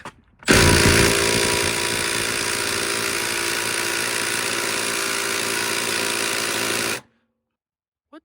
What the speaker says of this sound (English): All right, let's grab the impact.